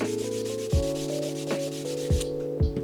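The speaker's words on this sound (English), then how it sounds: "take this Scotch-Brite pad. This just allows for better adhesion." A Scotch-Brite pad rubs briskly along an arrow shaft being prepared for turkey hunting, making a steady, close scuffing sound with regular back-and-forth strokes and no voices.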